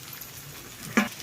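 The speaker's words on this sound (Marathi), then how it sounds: "याला तेल सुटेपर्यंत परतून घेऊ." Masala fries in oil in a pan, giving a soft continuous sizzle with a brief louder crackle near the end, heard close up.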